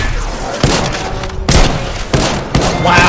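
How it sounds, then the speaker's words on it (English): Gunfire in Apex Legends comes as several loud, close, booming bursts spaced irregularly over a few seconds. "He's trying to shoot at me."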